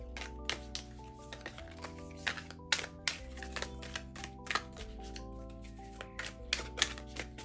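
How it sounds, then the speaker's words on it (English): Tarot cards are shuffled repeatedly, with quick riffling bursts and soft taps over low background music, fairly close and quiet. "this is like one of those decks that's like so satisfying to shuffle"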